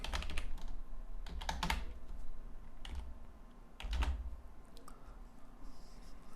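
Bursts of typing on a computer keyboard as web code is entered, clustered keystrokes with short pauses between them, close and clear over a quiet room tone.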